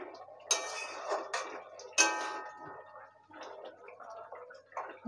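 A lid is lifted off a pot of bean and potato curry with a metallic clink and rattle, then bubbling and a few faint clinks of utensils nearby.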